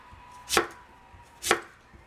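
Two sharp knife strokes through a sweet potato on a cutting board, each a crisp close chop about a second apart, with no talking.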